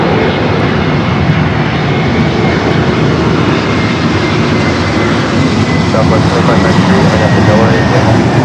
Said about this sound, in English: Delta E321 Neo, or next arrival here on the north side